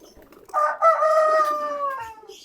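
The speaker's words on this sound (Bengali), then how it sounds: "এটা হচ্ছে একটা টার্কি" A single loud, drawn-out turkey call close by, a strained crowing cry lasting over a second, with faint background noise around it.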